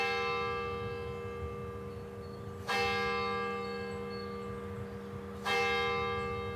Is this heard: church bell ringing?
yes